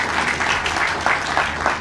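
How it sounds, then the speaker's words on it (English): Audience applause breaks out at a headquarters groundbreaking ceremony, a steady wash of many hands clapping at moderate loudness for just under two seconds, with no one speaking over it. "You should give yourselves a round of applause for that."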